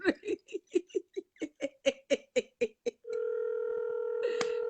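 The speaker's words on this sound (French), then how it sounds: "personne ne décroche son téléphone" A telephone call goes unanswered: a quick series of short chirping bursts gives way to a long, steady electronic line tone that holds to the end, faint and close.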